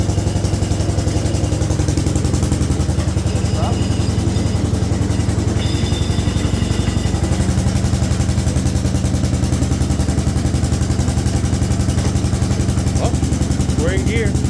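An Allis Chalmers garden tractor engine runs steadily with a rough, clattering mid-pitched drone. It stays loud and close throughout the whole stretch.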